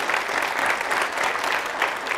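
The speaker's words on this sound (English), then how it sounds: "If we could get a round of applause for Mitch here." Steady, even applause from a seated audience for a speaker at a startup week talk, an unbroken wash of clapping with no voices over it.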